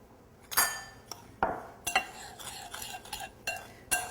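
Cinnamon and sugar mixed in a bowl with a utensil, a string of about eight sharp clinks and scrapes at an uneven pace, faint and close.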